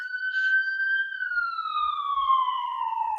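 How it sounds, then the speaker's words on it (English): A wailing siren holds a high tone and then slowly slides downward, clear and steady, with no talking over it. "That siren is distracting me"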